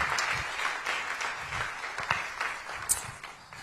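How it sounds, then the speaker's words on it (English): Steady applause from a large crowd at an awards ceremony honouring community impact makers, a dense wash of clapping heard at a distance, moderately loud and unbroken throughout. "Ladies and gentlemen, a big round of applause for Nanoye Bampo Ado"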